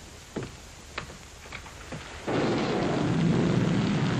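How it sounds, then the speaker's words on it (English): A few sharp cracks are followed by a sudden, steady downpour of heavy rain that continues to the end, with a low rumble underneath. "The rain that's falling down"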